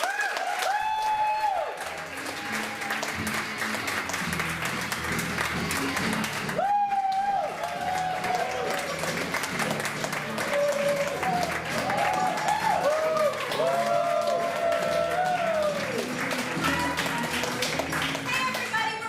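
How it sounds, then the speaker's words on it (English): A student showcase audience applauds a Level 2 class, with steady broadband clapping that holds strongly for the full stretch, cheers and voices mixed in, and a brief dip midway before the applause swells again. "Let's give it a big round of applause."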